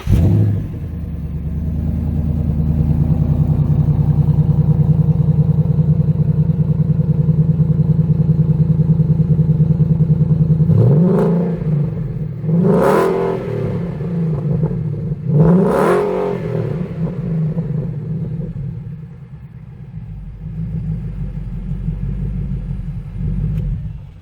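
A 1970 Mustang Mach 1 restomod's engine rumbles at a steady idle, then blips through three sharp revs that rise and fall before settling back into a loud, close, lumpy idle.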